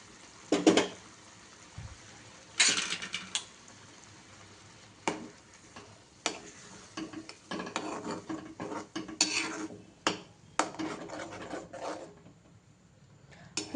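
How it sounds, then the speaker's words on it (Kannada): Boiled spinach water being mixed into a pan of soya chunks curry, heard as intermittent scraping, clinking and stirring bursts of a spoon against the pan, close and moderately loud, with quiet gaps between strokes. "ಆವಾಗಲೇ ಪಾಲಕ್ ಸೊಪ್ಪನ್ನ ಬೇಯಿಸ್ಕೊಂಡಿದ್ನಲ್ಲ, ಅದು ನೀರಿತ್ತಲ್ಲ, ಅದನ್ನು ಇವಾಗ ಮಿಕ್ಸ್ ಮಾಡ್ಕೊತೀನಿ ನಾನು"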